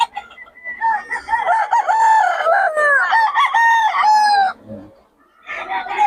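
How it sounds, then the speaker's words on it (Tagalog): Several roosters crow loudly in overlapping calls with long wavering notes, then a short pause before another crow starts, at a gamefowl farm in Bocaue, Philippines. "pero ano to, maraming manok"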